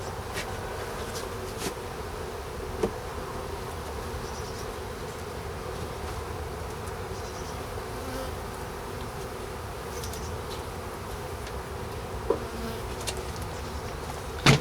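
A dense, steady drone of honeybees buzzing during a hive inspection in March, continuous and close, with occasional faint knocks and clicks and no talking.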